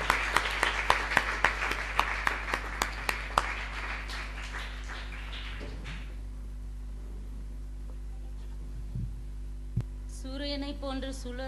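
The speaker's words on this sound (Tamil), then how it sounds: "அந்த மாதிரி கைத்தட்டி வரவேறங்க பார்க்கலாம் கெசியா" Audience at a Tamil debate event clapping to welcome a speaker, a burst of sharp claps that thins and dies out after a few seconds, leaving low hum and a few faint later sounds.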